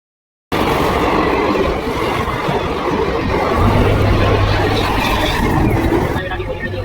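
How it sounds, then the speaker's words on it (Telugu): Mumbai local train arriving at Jogeshwari East station, a loud continuous rumble and rolling noise filling the platform with a low steady hum joining partway through. "15 నిమిషాల తర్వాత అయితే లోకల్ ట్రైన్ అయితే వచ్చిందండి"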